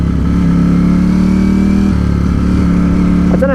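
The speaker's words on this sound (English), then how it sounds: "But the engine, it sounds lovely." A 2020 Ducati Streetfighter V4 S motorcycle engine revving steadily at a loud, deep pitch, holding and rising, then briefly dipping before climbing again, close by.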